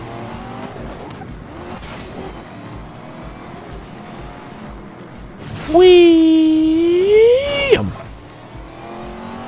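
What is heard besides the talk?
Bugatti Veyron engine accelerating in the video game Need for Speed Most Wanted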